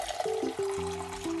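Water is poured into a blender jar holding lemon juice, sugar and black salt for a lemon sherbet, a short faint pour with gurgling, rising tones under quiet kitchen background.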